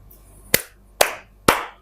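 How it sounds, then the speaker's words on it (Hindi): Three sharp, bright hand claps ring out alone in a quiet room, evenly spaced about half a second apart, each one decaying quickly. "ताली की आवाज। पट पट की आवाज आई।"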